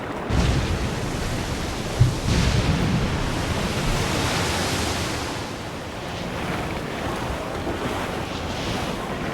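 Ocean waves and steady wind rush past a sailing ship at sea in the video game Assassin's Creed Black Flag, a continuous broad wash of surf and gusting air with no voices over it.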